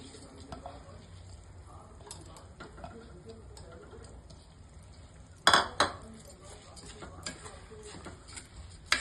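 Soaked rice and dal being stirred in a pot for vegetable khichdi: scattered spoon clinks and taps against metal, with a louder cluster of knocks midway, over a quiet background with faint talking.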